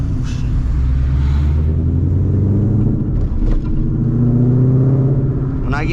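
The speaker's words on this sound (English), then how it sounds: "when I get to the higher RPM, that's when it gets very loud" A 2014 Ford Mustang GT V8 rumbles steadily, then climbs in pitch as the engine revs toward high RPM, a loud, close, continuous roar with no talking.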